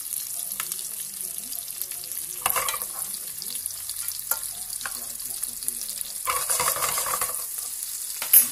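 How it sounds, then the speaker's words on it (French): Soft, steady sizzling of cauliflower frying and caramelizing in a pan, with intermittent scraping and stirring noises as it is moved around; no talking. "le chou-fleur commence légèrement à caraméliser"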